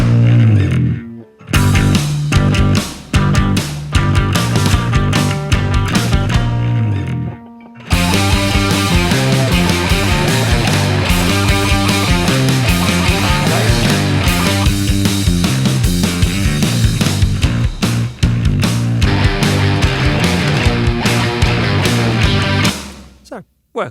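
Distorted bass guitar chugs along with a full drum kit in a studio mix, loud and steady, with a short break near the start before the groove resumes and drives on to the end.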